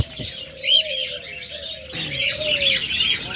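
Caged pet birds, budgerigars and lovebirds, chirp and tweet close by in a busy, overlapping chatter, with a few soft coos and wing flutters.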